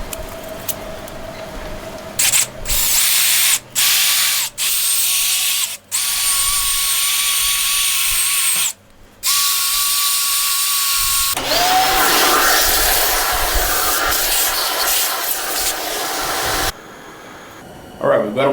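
Power drill fitted with a stripping wheel grinding paint off car wheels, loud whirring bursts starting and stopping repeatedly, with longer continuous runs and brief pauses between.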